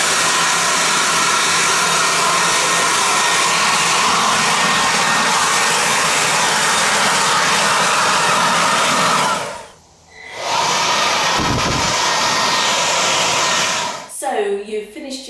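A Gtech cordless leaf blower roars loudly and steadily while clearing leaves, cutting out briefly around ten seconds, then starting up again before stopping near the end.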